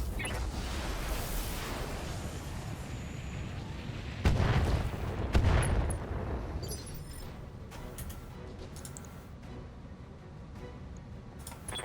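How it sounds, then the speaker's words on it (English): A mech in the BattleTech video game fires all its weapons, a rumbling volley with heavy booming impacts midway, followed by quieter ticking and electronic blips. "Firing all weapons."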